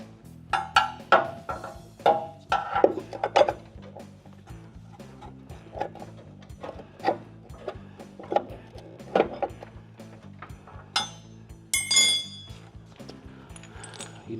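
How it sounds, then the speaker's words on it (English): A metal drift tapped to align a bushing on a Camaro, giving a run of sharp, close knocks and clinks in irregular bursts with short pauses between strikes. "I'm just using my drift to align the bushing so I've got a straight up shot."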